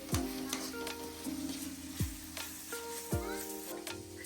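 Onion sautés in a pan for chicken curry, a faint sizzle under repeated sharp knocks and scrapes of a spatula against the pan, with tonal background noise throughout.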